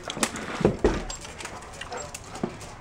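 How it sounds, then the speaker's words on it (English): Dogs yelp and whimper excitedly on a cold sunny morning, giving a few scattered short sharp barks and whines at moderate distance amid quiet background noise. "All these dogs are going crazy."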